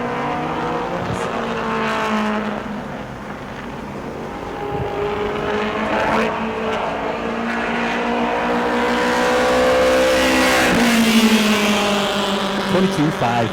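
A modified race car runs a qualifying lap at New Smyrna, its engine droning steadily with rising and falling pitch as it rounds the track, while a commentator talks over it.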